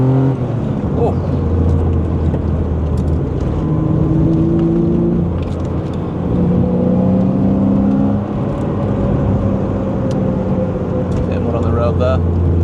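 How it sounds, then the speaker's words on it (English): A 1982 BMW E21 328i accelerating from the cabin, with a steady loud engine drone and intake whir rising in pitch through the gears under constant road noise. "see if you can hear the air intake"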